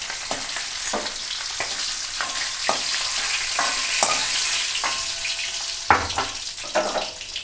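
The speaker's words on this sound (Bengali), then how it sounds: "তাহলে মাছটা একটু ভাজা হতে থাক" Hilsa fish sizzles steadily in hot oil in a home kitchen, a continuous close crackle broken by sharp clicks and scrapes of stirring.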